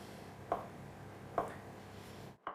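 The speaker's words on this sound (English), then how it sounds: "Cut each half of the mozzarella into 5 slices" A knife cuts through soft buffalo mozzarella on a board in three separate strokes, each a short soft thud spaced about a second apart, close and fairly quiet.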